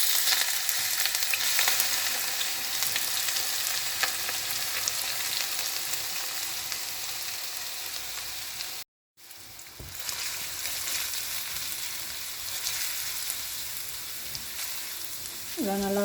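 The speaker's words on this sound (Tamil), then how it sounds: "இதெல்லாம் நல்லா வதங்கட்டும்" Garlic, onion, lemongrass and shallots frying in oil, a steady close sizzle with crackling spatter that continues almost without pause, briefly cutting out once midway.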